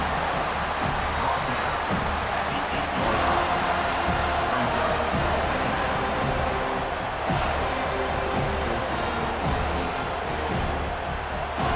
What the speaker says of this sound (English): they try to quiet this raucous, crazy crowd